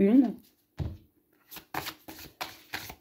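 Oracle cards are shuffled by hand in short papery bursts between spoken words, close and fairly quiet.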